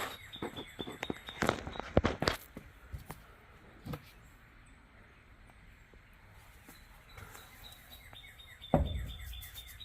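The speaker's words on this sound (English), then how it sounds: "I'm being quiet so y'all can hear that bird twerp and sing." A bird chirps and sings faintly in short repeated notes from some distance outdoors, mixed with nearby scuffing and footstep-like rustles.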